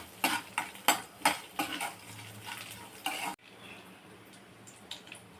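Fresh coconut pieces fry in a pan while a spoon stirs them, making a rhythmic series of loud scraping clanks for about three seconds. A quieter, faint sizzle with occasional light taps follows.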